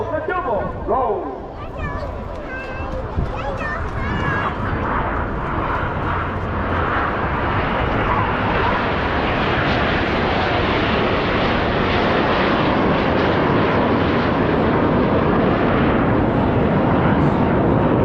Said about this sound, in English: They perform a series of opposition barrel rolls towards each other in a manoeuvre called the double roll.